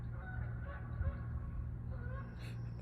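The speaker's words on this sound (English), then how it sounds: "isn't it irony to hear a goose right there?" A goose honks faintly in the distance, a couple of soft calls over steady low background rumble.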